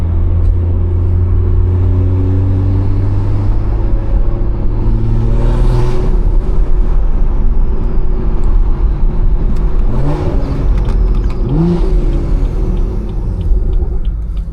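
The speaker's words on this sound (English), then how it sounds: "that turbo sound lovely, don't it?" A BMW with a loud B58 turbo engine drives on backroads, its deep exhaust rumble droning continuously up close, rising and falling as it revs and shifts, with whooshing turbo-like swells and no talk.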